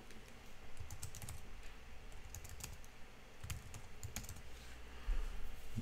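Soft, rapid clicking of a computer keyboard as someone types, quiet and continuous with short bursts of keystrokes.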